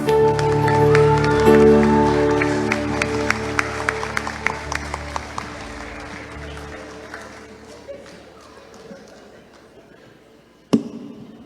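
Audience applause greets contestant number 4 at a kids and teens Christmas song festival, a broad wash of clapping that starts loud and slowly fades, with a sharp knock near the end.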